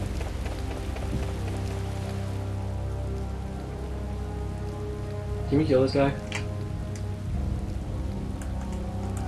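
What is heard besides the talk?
rain falling in video game Tales of Vesperia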